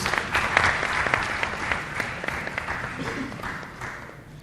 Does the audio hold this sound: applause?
yes